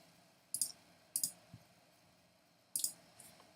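Mouse clicks at a computer while setting up a messenger tool: three sharp, close clicks, some in quick doubles, spread over a few seconds in a quiet room, with no talk.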